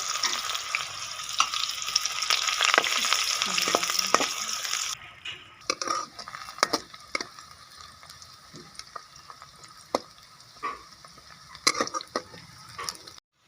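A cup of oil sizzles and crackles loudly as onions fry, settling into quieter scattered pops and stirring clinks partway through, with no talking.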